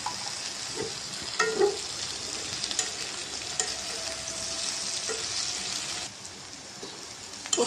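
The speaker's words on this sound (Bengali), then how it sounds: "পটল আলু ভাজাটা হয়ে গেছে" Pointed gourd and potatoes fry in a pan, giving a soft, steady sizzle with occasional scraping stirs and small clinks, close but moderately quiet throughout.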